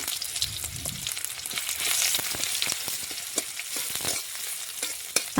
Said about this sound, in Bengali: এখন বেশ কিছুক্ষণ সময় নিয়ে পেঁয়াজ একটু লাল লাল করে ভেজে নিতে হবে।